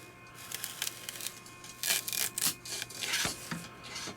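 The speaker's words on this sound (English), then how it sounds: "you can try to rub it off like this, but it's a lot of work." Old adhesive being rubbed by hand off a Monoprice Voxel 3D printer bed surface, a dry scraping rasp in repeated uneven strokes, close and moderately loud, with no voices.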